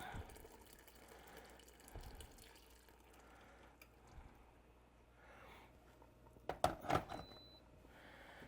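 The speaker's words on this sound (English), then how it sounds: "you're just going to add boiling water from the kettle right into" Boiling water from a kettle is poured into a pot of corn, a quiet trickle and splash that builds into a louder burst of liquid near the end.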